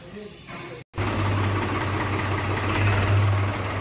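A brief cut, then a New Holland 5510 Excel tractor engine idles with a steady, heavy low chug close by, continuous and even.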